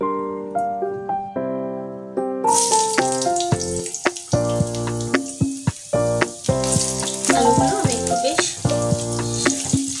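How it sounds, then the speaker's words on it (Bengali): Long potato strips sizzle steadily as they fry in a wok, a continuous hiss that rises after a quiet start and continues beneath loud melodic background music. "আলুগুলো লম্বা লম্বা করে কেটে নাও আলুগুলো, এবার আমি ভাজতে দেবো"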